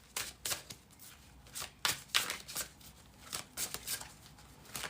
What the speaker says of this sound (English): I'm shuffling here.